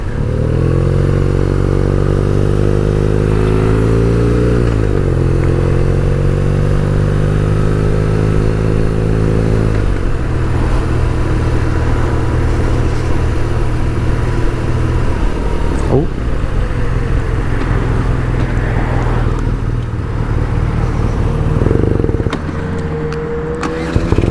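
A motorcycle without a gear indicator is ridden on a New Year's ride. Its loud, close engine drone rises and falls in pitch through gear changes, then the note drops away near the end as the engine stalls.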